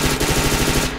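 Rapid submachine gun bursts from an SMG-focused shooter match, a dense, continuous rattle of shots filling the whole second at close range with no talking.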